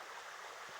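River in flood, water flowing over its banks at a riverside camp: a faint, steady broadband rush of moving water, continuous and distant-sounding, with no voices.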